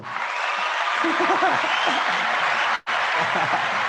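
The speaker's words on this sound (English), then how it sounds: "Round of applause." An audience at a commercial agency awards event applauds steadily, the clapping briefly cut by a sharp dropout, with voices and a little laughter mixed underneath.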